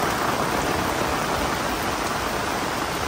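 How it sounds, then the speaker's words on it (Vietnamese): Heavy rain pours down at a grave site, a dense, steady hiss of water on surfaces filling the scene without a break and close to the microphone. "mưa gió quá trời quý cô chú anh chị"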